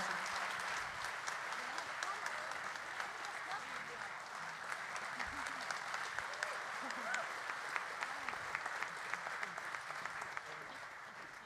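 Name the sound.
audience applause after a big band performance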